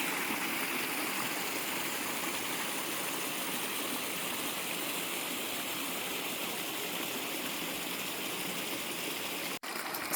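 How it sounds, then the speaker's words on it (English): Himalayan mountain stream rushing over rocks, a steady close broadband wash of flowing water that continues evenly throughout, with a single tiny click near the end and no talking. "This beautiful, beautiful, beautiful stream."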